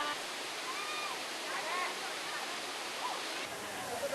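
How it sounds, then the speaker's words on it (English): Steady rushing roar of a waterfall, heard up close while someone climbs it, a broadband wash of falling water that holds constant throughout, with a faint voice or two murmuring underneath. "this is me going up the waterfall"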